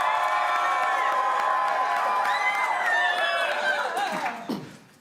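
A live main-stage show audience cheers and shouts for the band, a dense, sustained roar of many voices that fades out near the end.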